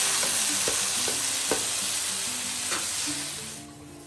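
Mushrooms being stirred in a hot cooking pan, a steady sizzle broken by several distinct scraping stir strokes, close and fairly loud with no talking, fading slightly at the end.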